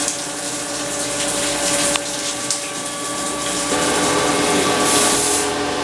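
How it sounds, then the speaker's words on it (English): Through-spindle coolant on a 2018 Haas VF4SS milling machine runs as a steady, close hiss and rush of liquid under a constant machine hum, with no speech. "Spindle coolant."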